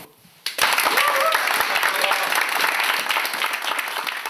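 Sudden applause erupts after a brief quiet, a dense, sustained clapping from a gathered crowd of air force unit members honoring a departing female captain, loud and close, with faint voices underneath.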